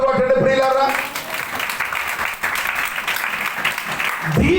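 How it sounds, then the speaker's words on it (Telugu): Congregation clapping in a Telugu church prayer hall, dense sustained applause with a steady broadband rattle and a speaker's voice over it at the start and end. "చప్పట్లు కొట్టండి ప్రియులారా"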